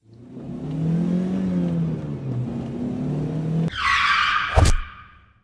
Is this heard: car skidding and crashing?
yes